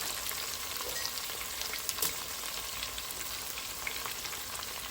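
Dried red chillies and garlic frying in hot oil for a seasoning, a steady dense crackling sizzle that runs close and fairly loud without a break and with no voices.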